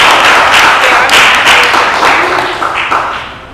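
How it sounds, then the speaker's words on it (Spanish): Audience applause fills the room at the close of a talk about a peaceful revolution, a dense, steady wash of clapping that holds loud for a few seconds and then slowly thins out. "un aplauso para ustedes."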